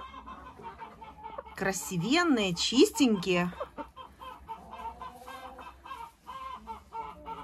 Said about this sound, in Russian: Вот мои молодцы курочки